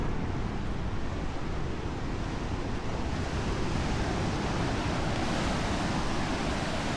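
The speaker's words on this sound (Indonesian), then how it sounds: "Ini bawahnya udah laut ya. Udah pinggir pantai." Sea waves wash against the rocks at the edge of Watu Bolong beach in Jogja, a continuous loud roar of surf mixed with wind buffeting.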